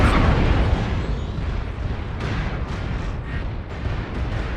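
Missile impacts pound a mech in MechWarrior Online, a dense, loud rumble of overlapping explosions with several sharper bursts later on, no voices.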